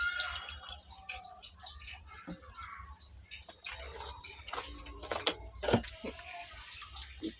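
Kewra water is poured into a pot of biryani, giving small wet splashes and drips over a busy background of kitchen clatter, with a few sharper clinks near the end.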